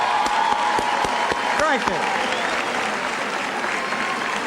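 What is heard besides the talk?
applause for a governor on election night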